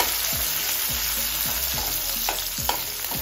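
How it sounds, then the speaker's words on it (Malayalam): Chopped ingredients with curry leaves and coriander frying in a pan for kappa curry, a steady close sizzle with repeated scraping stirs and soft clinks of a spoon. "അരിഞ്ഞുവെച്ച് നമ്മള് ഇട്ടുകൊണ്ട് നല്ലോണം വറുത്തെടുക്കുന്നുണ്ട്."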